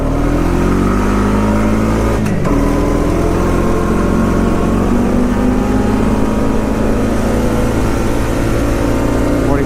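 A 2020 Honda Rancher 420 4x4 foot-shift ATV runs hard toward its top speed near 50 mph, a loud sustained engine drone with one brief shift dip, then climbing pitch.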